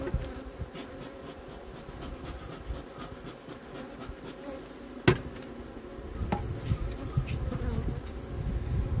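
Honeybees drone steadily around an opened hive during autumn colony reduction for overwintering, a dense continuous buzz close by with a couple of brief knocks from frames being handled.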